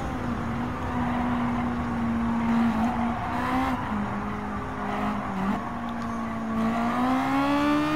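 Honda Civic Type R race cars at Suzuka Circuit in Gran Turismo 7, a steady loud high engine drone whose pitch climbs and dips as the pack shifts gears through the corners, with no talking.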